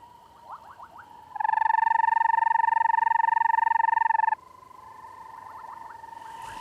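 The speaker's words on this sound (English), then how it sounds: "located a rarely seen banded rubber frog" A banded rubber frog calls with a long, steady, trilling ring that holds for about three seconds, close and clear, framed by short quieter chirps before and after.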